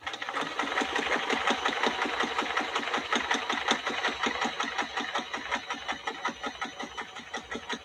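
A vintage Kenmore sewing machine runs steadily, its rapid rhythmic stitching clatter continuing without pause, close and fairly loud.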